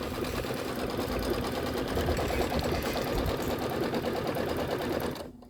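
Embroidery machine running a fabric tack-down stitch on a Kimberbell holiday project: a steady, close, fast mechanical stitching whir with rapid needle ticks, continuing evenly alone before cutting off abruptly at the end.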